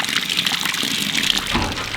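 Water gushes steadily from a hose or tap into a pig wallow in a small pen, close and continuous with a broad splashing hiss.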